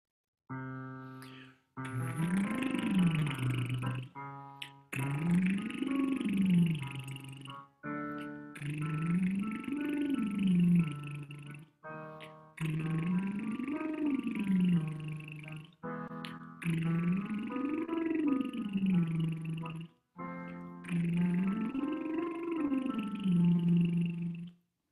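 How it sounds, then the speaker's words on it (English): Buzzing lip-trill raspberries follow a repeating digital keyboard pattern, each phrase sweeping up and back down in pitch, loud and close, in several regular cycles over the sustained keyboard chords. "let's just do a couple of raspberries on that pattern"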